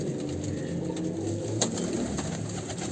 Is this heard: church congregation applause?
no